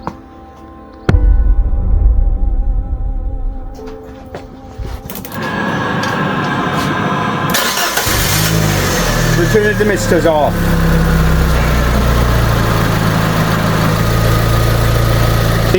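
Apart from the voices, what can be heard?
Fiat 500 engine starting and idling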